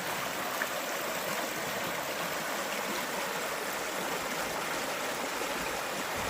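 River water flows steadily in a broad, even rush of noise, continuous and fairly close, with no voices over it.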